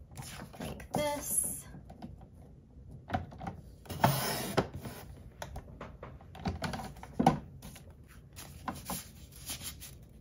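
Paper being trimmed along its sides with scissors or a craft trimmer while making a layered mini flip book from an envelope, heard as a series of close, crisp snips and rustles in quick bursts with short pauses between.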